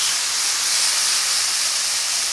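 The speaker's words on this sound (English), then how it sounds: "I'm just going to sizzle that off as well" Garlic and ginger paste sizzling in a small amount of hot oil in a pan, a steady, bright, hissing fry that stays loud and even throughout, with no voices over it.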